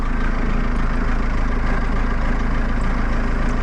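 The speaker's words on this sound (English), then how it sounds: "it sounds like it has a muffler on it with all the snow." A snow-covered logging machine engine idles with a steady, muffled low rumble, constant and close, with no other sounds.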